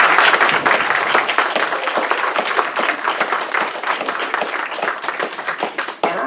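An audience applauds library faculty and staff at a board of advisors dinner, steady dense clapping filling the room for about six seconds before tapering off near the end.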